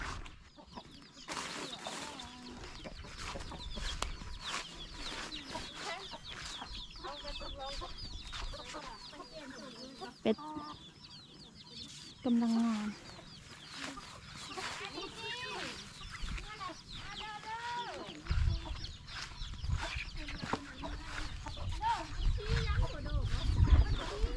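Chickens cluck repeatedly around a Thai farm during rice-planting season, close and fairly clear, with scattered calls over a background of voices talking.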